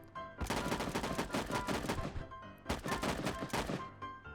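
Rapid gunfire bursts from a close-quarters video game shooter, two dense volleys of repeated shots separated by a brief pause, loud and continuous with no talk.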